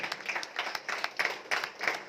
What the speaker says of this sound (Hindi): इनके लिए बहुत बढ़िया तालियां होनी चाहिए